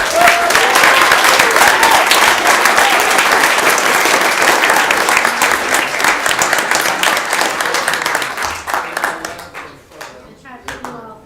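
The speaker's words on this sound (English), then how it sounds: "A round of applause, please." Sustained audience applause at a city council meeting, honoring a high school mock trial team, dense, even clapping from a crowded room that thins and fades out over the final seconds.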